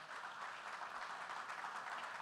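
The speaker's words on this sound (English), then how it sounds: "they deserve a sound round of applause" Applause from a conference audience for the panelists of a high-level session on climate-resilient grids and interconnection, a steady, moderately distant patter of many hands.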